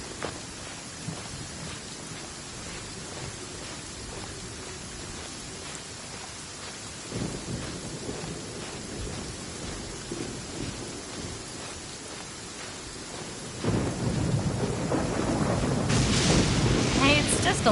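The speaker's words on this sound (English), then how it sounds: "Just a little lightning." Steady rain hiss with low rumbling, like rolling thunder, in a Genshin Impact thunderstorm, growing louder and denser toward the end with a brighter crackling wash over the rumble.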